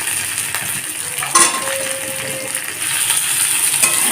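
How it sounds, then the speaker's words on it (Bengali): Potatoes fry in oil with browned onions in a pan for Bengali potato fish curry: a steady close sizzle with a few light clinks of a utensil. "আলুগুলোকেও দিয়ে দিয়েছি এখন লাল করে ভেজে নেব আলুটাকে"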